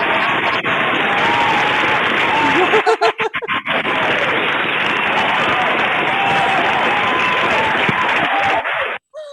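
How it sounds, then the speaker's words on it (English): Audience applause at a women-in-franchising business event in the Philippines, a loud sustained wash of clapping lasting most of the span, briefly dipping midway, then cutting off near the end. "You got a 10-second applause there."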